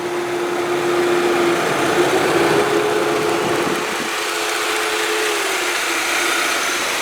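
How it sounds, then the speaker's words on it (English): A 2003 Saab 9-3 engine idles continuously with a rattling, mechanical hum and a faint whine that fades partway through; no one speaks. "I want you to listen. You'll hear this motor."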